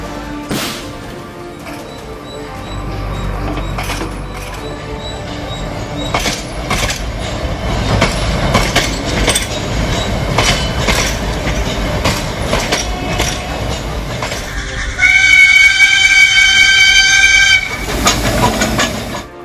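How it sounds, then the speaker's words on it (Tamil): The Mettupalayam–Ooty mountain railway train rumbles steadily along the tracks with rattling wheels, then a loud, sustained horn blares near the end before fading. "மேட்டுப்பாளையத்திலிருந்து உதகைக்கு ரயில் இயக்கம்."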